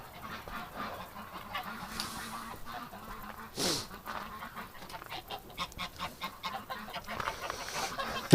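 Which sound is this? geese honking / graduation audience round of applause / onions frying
geese honking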